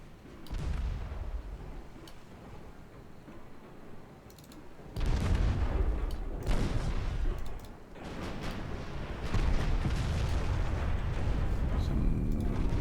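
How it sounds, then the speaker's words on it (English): Torpedoes striking a ship in a naval strategy video game, a series of heavy rumbling booms and blasts in bursts over several seconds, with clicking interface sounds between them. "Torpedo hits."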